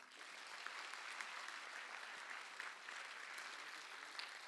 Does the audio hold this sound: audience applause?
yes